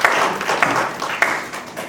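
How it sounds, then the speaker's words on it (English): Workshop attendees at a trade expo break into brief, scattered applause, a moderate patter of claps with a few sharper hits, fading within two seconds. "give yourself a round of applause for coming home and being with us"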